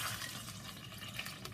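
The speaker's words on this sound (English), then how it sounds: "We have 1 cup of water, and we pour it in slowly." Water trickles slowly into an oil mixture, a faint, soft, continuous pouring and splashing sound, quiet and close, with no talking.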